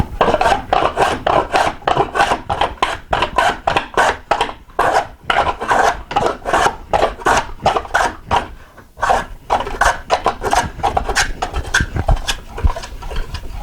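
Repeated rasping strokes of a chamfer plane cutting a chamfer along a piece of timber, steady back-and-forth rhythm of about two strokes per second, close and loud with brief pauses, no talking.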